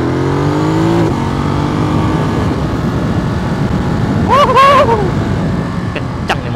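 A Ducati Monster motorcycle engine runs steadily while being ridden on the road, loud and close, with a rising whine and a brief revving flutter near the end.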